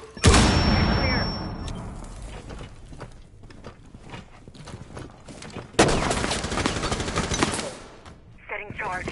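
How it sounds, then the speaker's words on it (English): A frag grenade tossed and detonating in a video game, with a sharp burst followed by loud chaotic gunfire-like crackle and a second heavy blast midway, with mechanical clatter at the end. "Tossing a frag."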